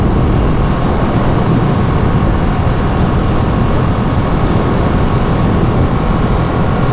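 2023 limited edition Ducati Panigale V2 Troy Bayliss motorcycle cruising in sixth gear at about 5,000 RPM, a steady dense engine drone mixed with heavy wind rush, constant and close.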